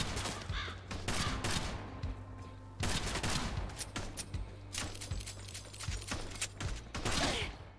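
Rapid bursts of gunfire in the video game Kill the Crows, loud and repeated in clusters over a steady low hum with game effects throughout.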